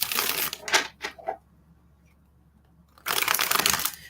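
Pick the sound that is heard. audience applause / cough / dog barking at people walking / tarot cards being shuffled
tarot cards being shuffled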